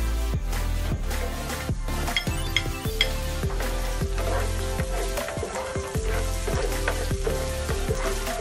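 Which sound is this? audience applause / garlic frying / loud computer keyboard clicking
garlic frying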